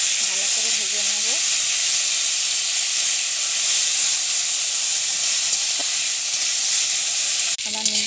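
Hot oil crackles and hisses around neem leaves frying in a wok, a continuous close sizzle with a brief voice near the start, a utensil clunk near the end and talk resuming after it.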